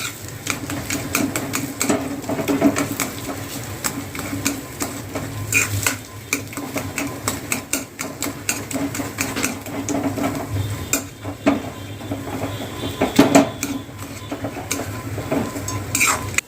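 Bread patice vegetable filling is mashed and stirred in a pan, with repeated close scraping and clattering of a utensil against the metal and a faint sizzle underneath, steady throughout.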